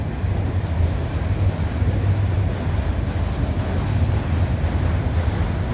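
A freight train rolls through Abbeville with a steady, loud low rumble and continuous rail noise, wind buffeting the microphone throughout, no voices.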